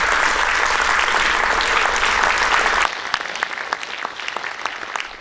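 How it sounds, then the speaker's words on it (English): Audience applause at the close of an evening of research talks, a dense, steady wash of clapping that suddenly thins to scattered claps halfway through. "So let's give them a round of applause."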